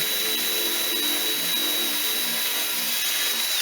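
Steady continuous whirring of a power sander working over a rusty vintage metal fuel can, constant and close with no pauses.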